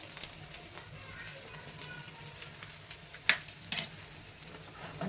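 Egg-dipped bread frying with oil and small pats of butter in a pan, a soft steady sizzle running throughout with a couple of brief clinks of a utensil near the end.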